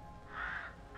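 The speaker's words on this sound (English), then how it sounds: "Crow." A single crow caw in the game Escape Simulator, one faint, hoarse call rising briefly above quiet background hiss.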